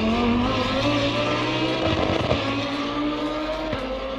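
A Lamborghini Huracan Super Trofeo Evo II racing car in Assetto Corsa Competizione, with a naturally aspirated 620 HP engine and six-speed sequential gearbox, drones at high revs, briefly shifting and dipping before settling back to a steady, loud howl.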